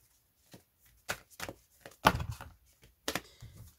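A deck of oracle cards is cut and handled on a table, giving several soft, close taps and thumps at irregular intervals with brief shuffling rustle.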